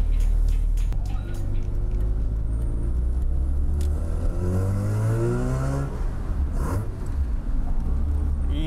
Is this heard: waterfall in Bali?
no